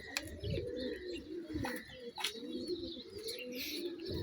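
Pigeons on a house rooftop coo in soft, continuous rolling murmurs, with a few light chirps and faint wing flutters mixed in nearby.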